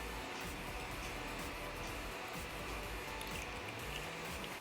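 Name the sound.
heavy whipping cream poured into a pan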